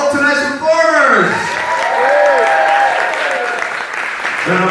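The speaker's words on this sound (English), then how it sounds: "Round of applause for all tonight's performers!" A cabaret audience in Glasgow applauds and cheers for the performers, with sustained clapping and whoops filling the room while a voice calls out over the crowd.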